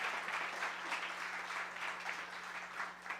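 A church congregation claps at a Spanish-language service, praising God; the applause is soft and distant, a steady wash of hands at low level throughout.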